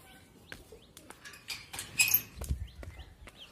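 Pigeons feeding on grain inside a loft: quiet scattered pecking taps, soft wing flutters and a few brief chirps, close and faint with gaps between.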